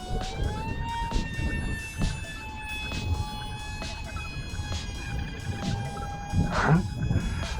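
The motors of an E-Flite UMX A-10 model plane hum as it flies, a steady high-pitched whine whose pitch holds and drifts slightly against constant outdoor noise, with the tone shifting as the plane passes.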